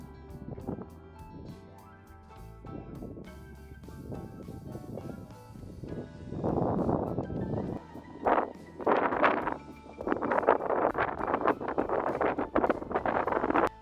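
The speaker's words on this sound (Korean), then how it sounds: "바닷가 앞이라 바람이 센 편인데" Strong seaside wind buffets the microphone in a park by the sea, rumbling and gusting steadily throughout with louder bursts toward the end, no one speaking.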